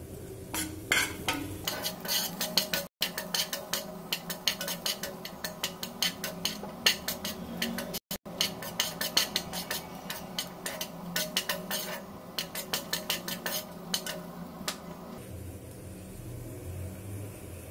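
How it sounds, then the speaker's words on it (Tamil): Cashews and raisins roast in hot ghee in a pan while a spoon stirs steadily, with repeated clinks and scrapes of metal against the pan over a low sizzle, loud and close. "நெய் சூடானதும் நம்ம திராட்சை முதிரையும் போட்டு வறுத்து எடுத்துக்கலாம்"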